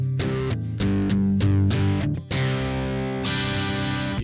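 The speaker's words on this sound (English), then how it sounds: "you can crank the gain." An electric guitar plays through a Traveler TGA-1E headphone amp with the gain cranked, giving loud distorted chords struck in a rhythmic chugging pattern and then one long sustained ringing chord, with no talking.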